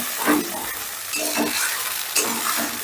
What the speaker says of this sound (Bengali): এবারে গ্যাসের আঁচটা বাড়িয়ে দিয়ে মশলাটা বেশ ভালো করে কষে নেব।